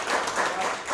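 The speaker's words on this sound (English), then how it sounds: "let's give her a round of applause." A brief, steady burst of audience applause for a speaker at a lecture program on immigration and refugees.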